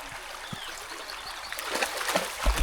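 A small mountain creek runs near a campsite, giving a soft, steady trickle and light splashing that grows a little louder toward the end, with no talking over it.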